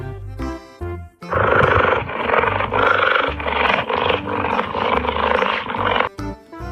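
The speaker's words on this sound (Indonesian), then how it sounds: "lihat teman-teman ini ada hewan macan tutul" A leopard roars loudly and continuously in a long, rough, grunting growl lasting several seconds, close and dominant, with brief music before and after.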